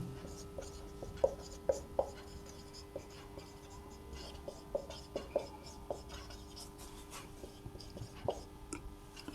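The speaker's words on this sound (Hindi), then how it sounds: "तो इसका सूत्र सबसे पहले मैं लिख देता हूं।" Pen or marker writing out a maths formula on a surface, faint scratchy strokes with small taps at irregular intervals, quiet and close over a low background hum.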